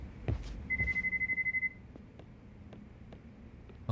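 A phone in Lost Judgment gives a short electronic ringtone, a quick run of pulsed beeps under a steady tone, followed by faint scattered clicks in a quiet room.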